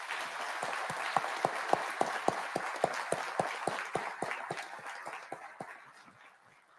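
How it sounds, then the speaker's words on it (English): Audience at a police academy graduation applauds a retired police chief after 37 years of service: steady crowd clapping with sharp, rhythmic accented claps, tapering off at the end. "I think we just need to give him an applause for that"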